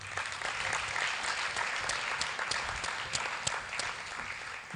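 An audience at a Generation Unlimited Nigeria event gives a steady round of clapping for the young generation, dense and even throughout, heard from a moderate distance.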